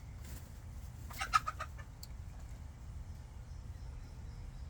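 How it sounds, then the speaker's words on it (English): A rooster gives a short burst of clucking calls, moderately close, over a steady low rumble of background noise. "Rooster tried to attack me. Stomping its feet at me."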